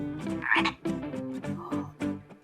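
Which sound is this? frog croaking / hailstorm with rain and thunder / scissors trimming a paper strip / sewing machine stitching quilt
frog croaking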